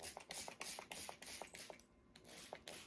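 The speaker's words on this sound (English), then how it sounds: "I will spray the leaves with the neem mixture" Quiet, rapid hissing spritzes from a spray bottle misting a houseplant's leaves with neem mixture, about a dozen short bursts in an uneven rhythm with a brief pause midway.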